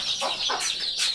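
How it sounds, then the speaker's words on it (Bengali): Chickens clucking close by, several short bursts of clucks repeating across the moment with no talk over them. "আমি ফাইনালি সবগুলোর মুরগি এখানে ঢুকাইছি"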